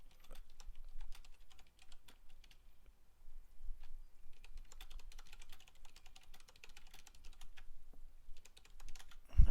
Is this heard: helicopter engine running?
no